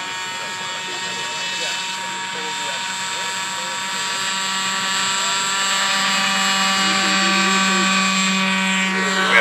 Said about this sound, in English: We have proper rotation and takeoff inside the 200-foot line.